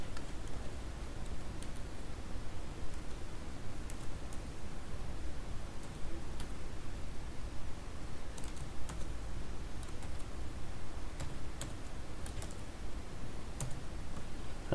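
Typing on a computer keyboard while entering a LaTeX equation, light irregular key clicks with occasional brief bursts, close and fairly quiet, no talking.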